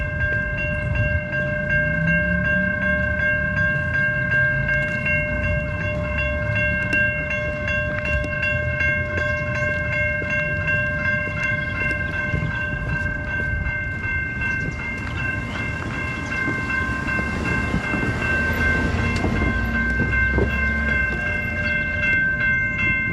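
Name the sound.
train passing on rails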